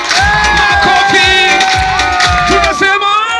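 Loud crowd at a gospel show in Kenya cheering and whooping continuously, with shouting voices and high whistle-like cries rising over a dense, nearby roar.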